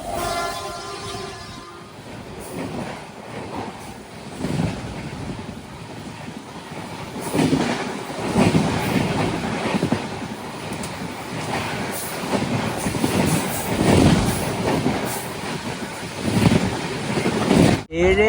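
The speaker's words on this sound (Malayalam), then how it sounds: "ട്രെയിൻ ഇപ്പോൾ തിരുച്ചിറപ്പള്ളി ജംഗ്ഷനിലേക്ക് ഇതാ എത്തുകയാണ്" Navyug Express sleeper train pulling into Tiruchirappalli Junction: a steady, loud rolling rumble of the carriages with rhythmic wheel clatter over rail joints, heard close from onboard, with the noise building after a quieter opening.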